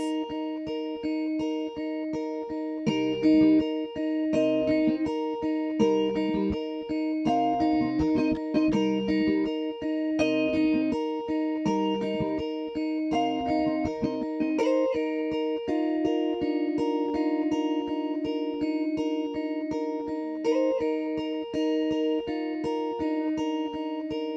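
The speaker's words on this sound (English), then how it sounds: "I'm gonna use a guitar melody." A clean, bell-like electronic guitar melody repeats steadily over sustained tones, up close and even in level, with no voices.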